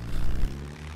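A propeller aircraft engine in the SCUM game starts up and idles at the start of a taxi, a steady low drone with a brief louder swell early on.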